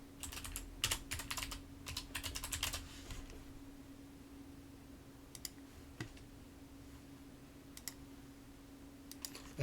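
A username typed on a computer keyboard: a quick flurry of keystrokes at the start, then a few sparse isolated clicks, all fairly faint against a quiet room with a steady low hum.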